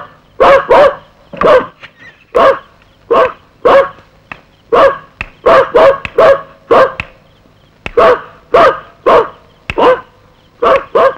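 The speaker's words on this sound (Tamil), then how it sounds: "அதான் மணி கொலைச்சிருக்கு" A dog barks loudly and close by, firing off around twenty sharp barks in quick pairs and short bursts with brief pauses between them, and no voices alongside.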